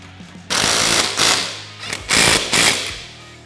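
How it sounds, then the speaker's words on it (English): Power tool tightening trailing arm bolts on a Polaris RZR Turbo S: four loud, close bursts of rapid mechanical hammering, each about half a second long, separated by short pauses. "we'll go ahead and fully tighten the hardware here."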